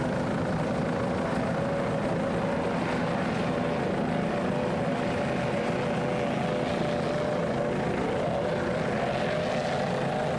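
An offshore racing powerboat roars around a turn during the 2002 Fountain Fury race, a dense, continuous engine drone mixed with rushing water and wind, steady and fairly loud throughout with no clear voices.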